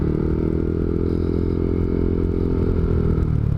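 A motorcycle fitted with a loud aftermarket exhaust pipe rumbles continuously and close, a deep steady engine drone with faint clattering over it, and no voices.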